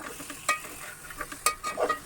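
Soft sizzling of masala frying in a pan for crab curry, with scraping stirs and a few sharp clinks of a spoon, fairly quiet and close.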